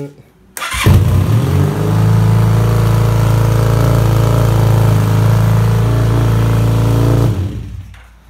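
A motorcycle engine, just back from carburetor idle circuit work, fires up after a brief crank, settles into a loud, steady idle for several seconds, then shuts off.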